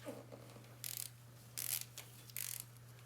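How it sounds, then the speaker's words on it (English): Torque wrench tightening a valve cover bolt on a Mercedes E350, three short clustered bursts of ratcheting clicks separated by pauses, close and fairly quiet over a low steady hum. "Now we're gonna torque the bolt for the valve cover"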